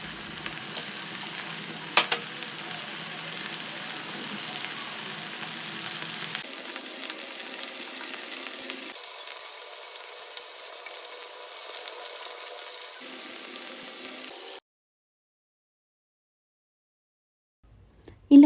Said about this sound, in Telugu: ఈ పీసెస్ని ఆయిల్లో వేసి మంచిగా రోస్ట్ అవ్వనివ్వాలి